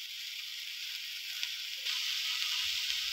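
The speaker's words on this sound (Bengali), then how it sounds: "হলুদ দিয়ে ঝিঙে আর আলুটাকে ভেজে নেব।" Ridge gourd and potato pieces fry with turmeric in hot oil, giving a steady, close hiss of sizzling that holds even throughout, with a faint stir near the end.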